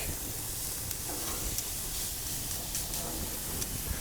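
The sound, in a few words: filet mignon steak sizzling on grill as it is turned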